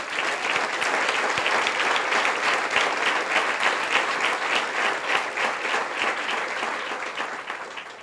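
A church congregation claps loudly and continuously, a dense, even wash of applause that fades slightly toward the end.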